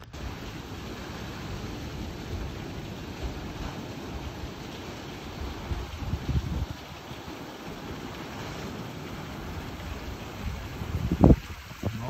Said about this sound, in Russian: А здесь шумит река от дождя.